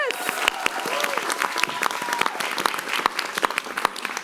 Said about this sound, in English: So big round of applause for yourselves.